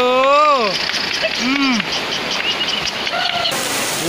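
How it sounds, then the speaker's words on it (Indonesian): Heavy rain pours steadily as a dense, constant hiss throughout, loud and close, while whistling bird-like chirps and faint voices rise over the downpour. "Hujan semakin deras"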